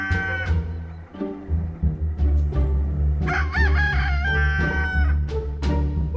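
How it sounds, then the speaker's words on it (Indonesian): A rooster crows loudly and close by with a long, wavering cock-a-doodle-doo, over a steady low hum and other background noise. "Di sini ada seekor ayam jago."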